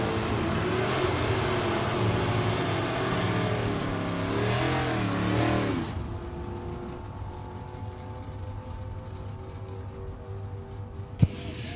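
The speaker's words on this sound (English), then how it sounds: "LaBelle out of Newbury, Mass with his 69 Camaro, 350 Chevy powered" A 1969 Camaro drag car with a 350 Chevy engine roars loudly at the dragstrip, its pitch rising and falling as it accelerates, then fades to a distant drone with a brief sharp knock near the end.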